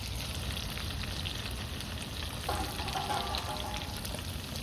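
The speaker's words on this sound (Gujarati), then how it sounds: "વઘાર એવો બેહાડ્યો ને મિત્રો આપણે આઘું રહેવું પડે એવો વઘાર બેહાડ્યો છે" Tempering (vaghar) crackles and sizzles in hot oil for potato poha, a loud, dense, steady frying hiss with a brief surge of spitting partway through; no voices.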